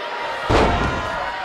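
Wrestler slammed down onto the ring mat at TNA Against All Odds 2024 in a tag team match: one heavy, sharp thud over steady arena crowd noise.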